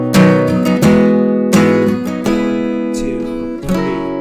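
An acoustic guitar strums the chord progression of a song, several bright strummed chords struck and left ringing in a steady rhythm, close and clear, with no talking.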